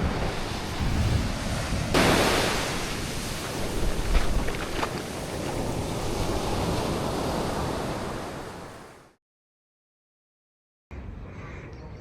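Broad roaring ocean surf washes continuously with wind buffeting the microphone, then cuts to silence before the rushing waves briefly return.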